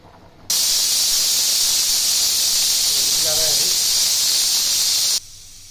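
A pressure cooker whistles as it vents steam, a loud, steady, close hiss that starts abruptly, holds for nearly five seconds and then cuts off.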